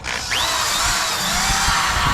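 A power tool whirs at high, steady speed, stripping paint, primer and seam sealer down to bare metal in the engine bay of a Mk2 VR6 turbo car, loud and close with a rising whine at the start.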